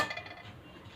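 A clay tagine pot is set down with a single close clink and knock that rings briefly and then fades into quiet.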